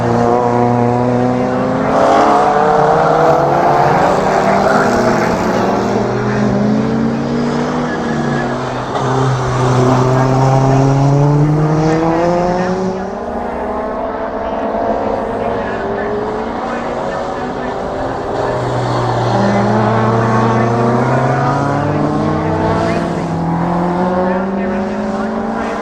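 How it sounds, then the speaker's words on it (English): Ford Escort race cars, a Mark 1 and a Mark 4 among them, battle at the Lydden Hill circuit, engines loud and continuous with rising and falling revs as the cars power through gears and pass. "Lovely Mark 1 Escort. Been overtaken by a Mark 4 Escort."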